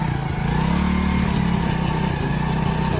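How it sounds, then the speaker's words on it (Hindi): A heavy Fat Boy motorcycle engine runs steadily in Lahore, with a loud, continuous low rumble at a constant idle and no voices. "ये लाइट मोटर बाइक है, हैवी मोटरसाइकिल"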